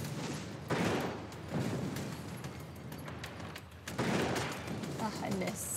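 Gunfire in a video game crackles in a few bursts, moderately loud and somewhat distant, mixed with background game sounds and a voice talking over it.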